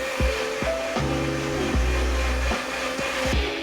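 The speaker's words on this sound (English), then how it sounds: "So now we are going to blend the pineapple plus 1 piece of ginger." A kitchen blender purees pineapple with a piece of ginger, its motor whirring loudly and steadily, with the pitch dipping and surging several times as the blades catch the fruit.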